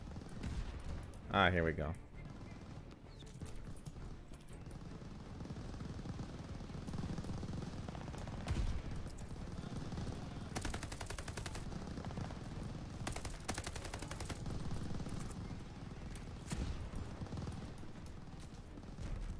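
Call of Duty gameplay gunfire, bursts of shots and automatic fire crackling through a busy mix of battle noise, with someone talking over it.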